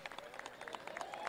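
Brief, faint scattered clapping from a crowd as the trophy goes to the champion Cruz Azul football team, heard alone at a distance.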